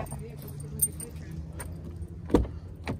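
Keys jangle briefly as people climb into a car, with a dull door thump near the end, all under continuous nearby chatter and a low background rumble.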